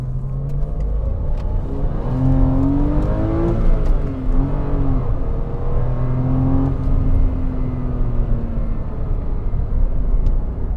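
A Porsche Boxster 986 mid-engine sports car drives on the road, its engine note steadily rising and falling through the revs, close and continuous with no talk over it.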